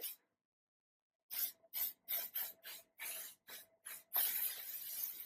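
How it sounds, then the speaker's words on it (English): L'Oreal Lock It Bulk Control aerosol hairspray hissing out onto French braids in a string of short bursts, then one longer continuous spray, close and loud. "I'm gonna spray it down with some Lock It Bulk Control L'Oreal hairspray."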